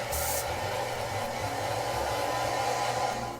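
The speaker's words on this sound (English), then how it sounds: "I'll just grab a dryer and Great. get some air on her hair." Hair dryer blowing air onto hair, a steady close whoosh with a low motor hum, continuous and fairly loud with no speech.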